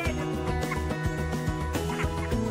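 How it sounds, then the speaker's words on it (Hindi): Birds quacking in steady overlapping calls, close by and fairly loud, with no talking. "और ये हमारा बत्तख सब"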